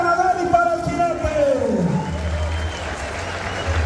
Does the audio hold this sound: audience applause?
yes